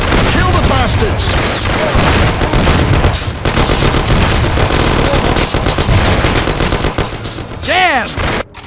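Sustained loud gunfire from a shootout in the Mafia: The City of Lost Heaven video game, dense overlapping shots and bursts filling the whole stretch, with shouting voices mixed in and a brief dip near the middle.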